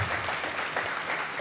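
Audience applause for grantees receiving sports and wellness grants at a city press conference, a steady wash of clapping held at even loudness throughout with no talk over it.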